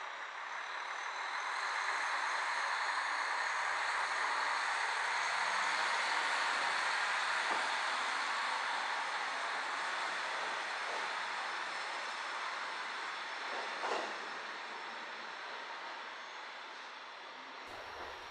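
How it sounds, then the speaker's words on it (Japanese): Steady diesel engine drone from a KiHa 40 railcar on the Nemuro Main Line, a continuous mid-level hum with a faint rising whine, a brief clank near the middle and the sound dropping off abruptly at the end. "キハ40のエンジン音好きです。"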